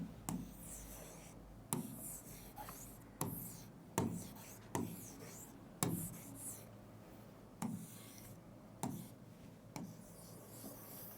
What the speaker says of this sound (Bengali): বড় বড় করে লিখে দিই